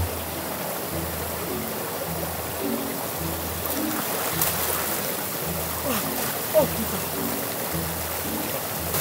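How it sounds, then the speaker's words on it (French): A jungle mountain waterfall in the Amazon, heard as a steady broadband rush of falling, splashing water that fills the whole stretch, close and continuous. "il y a une belle cascade juste à côté."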